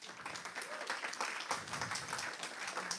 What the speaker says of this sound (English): If we could please welcome back Mark and Lily to the stage area with a nice round of applause